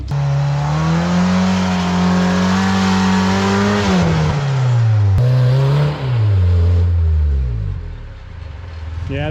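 A Toyota Land Cruiser FJ80 labours up a snowy trail with a rear tire against a tree root. The engine drones loudly and steadily, its pitch holding and then dropping and rising again as it strains, recorded close.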